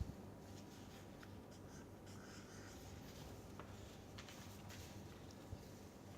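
Chalk or pen writing on a board during a mathematics lecture, a steady faint scratching that continues throughout with no talking.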